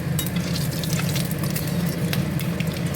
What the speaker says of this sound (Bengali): এখন আমি কড়াইতে তেল দিয়ে দিয়েছি, আমার কড়াই তেল গরম হয়ে গেছে। এর মধ্যে শুধু জিরে ফোড়ন দেবো,